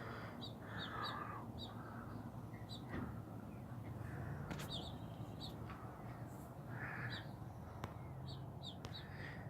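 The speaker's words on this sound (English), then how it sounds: "I'm trying to give that bird a rest before I like go freak it out again." A bird loose inside a house gives faint, repeated harsh caw-like calls in short clusters over a steady hiss of background noise.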